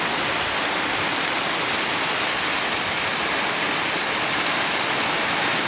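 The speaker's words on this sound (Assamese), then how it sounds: "চাহ কিমান ধুমুহা আৰু বৰষুণ চাহ কিমান প্ৰচণ্ড ধুমুহা আজি" Heavy storm rain pours down in a dense, constant roar, loud and even from start to finish, with no voices.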